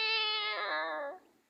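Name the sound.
man imitating a male cat meowing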